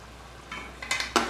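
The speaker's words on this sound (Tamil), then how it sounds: "ஊற்றி கிண்டுவோம்" Chicken curry with tomato puree being stirred in a pan: a few short, close scraping strokes grow louder toward the end over a faint sizzle.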